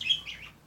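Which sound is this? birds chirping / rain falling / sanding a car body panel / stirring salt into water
birds chirping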